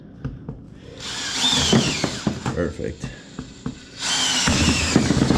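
A power drill whines in loud, close bursts while pre-drilling slots in a kitchen remodel, mixed with scraping and knocking on the workpiece, and a voice speaks briefly partway through.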